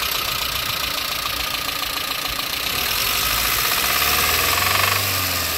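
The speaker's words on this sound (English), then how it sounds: "Just a normal sound of an E-Series engine." A Ford E-Series engine idles with the number 4 spark plug lead pulled off, running with a loud, close, uneven knocking rumble that grows rougher and heavier toward the end.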